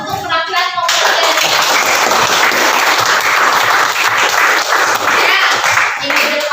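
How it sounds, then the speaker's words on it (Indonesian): Students in a classroom clap loudly and close by after a group presentation, with dense, vigorous hand clapping that sustains for several seconds after a brief opening voice. "mari kita berikan tepuk tangan untuk penampilan komputer."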